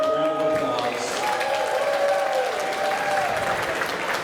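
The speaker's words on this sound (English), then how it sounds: "everybody give Chef a round of applause" Audience at a Kings Island Coasterstock 2022 lunch gives a chef steady, full applause for several seconds, with a few voices and cheers mixed into the clapping.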